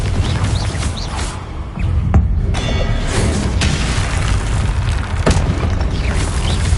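Confringo blasting curse explosions in Hogwarts Legacy: a loud, dense booming rumble with a couple of sharp blasts layered over constant game noise, close and heavy.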